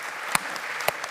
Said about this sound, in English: Let's clap for that, too.